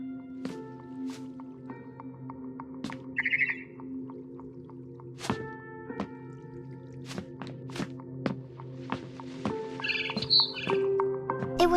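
A barn swallow chirping as it returns to its nest in What Remains of Edith Finch, with repeated short clear chirps and clicks over a quiet tonal hum, close and moderately loud.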